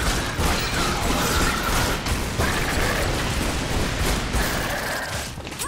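Dense, continuous rapid gunfire with mechanical reloading clicks and clatter in the video game Tomb Raider Underworld, loud and sustained throughout with no voices.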